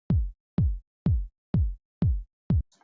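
Six deep, booming electronic kick drum hits in an even, steady pulse, each with a sharp attack and a short decaying low tail, separated by silence.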